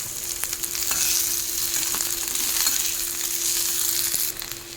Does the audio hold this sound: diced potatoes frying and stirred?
yes